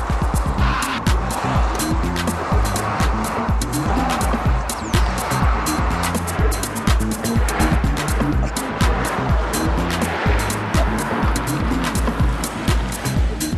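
A car runs a slalom course on 15-inch C.drive tyres during a tyre test, giving a steady close engine drone with rhythmic surges and rolling tyre noise throughout.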